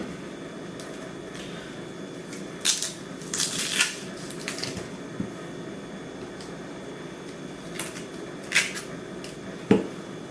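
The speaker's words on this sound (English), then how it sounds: "So there's many ways how to cut an onion." A knife cuts through an onion on a cutting board, giving scattered crisp slices and dull taps against the board, several in clusters with quiet gaps, close and without speech.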